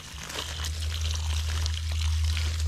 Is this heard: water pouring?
yes